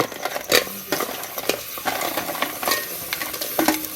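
Crabs dropped into oil-glossed garam masala frying in a pot on a village wood-fired chulha, giving a steady close sizzle with scraping stirs, clinks and a few sharp knocks from the spoon.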